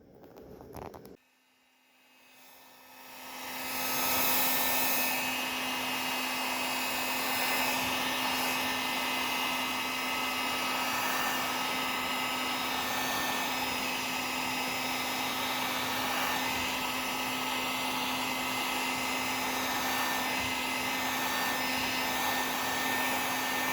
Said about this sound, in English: I will use a heat gun to soften up the plastic